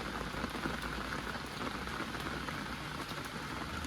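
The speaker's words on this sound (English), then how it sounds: "Rain." Rain falls steadily outside in a dense, even patter of drops hitting surfaces, soft and unbroken for the whole stretch with no voices.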